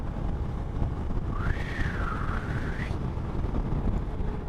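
Steady wind rushes over the microphone throughout a ride on a Honda Unicorn 160 motorbike in cold weather, filling the low range with constant buffeting. A faint rising and falling whistle-like tone passes briefly midway.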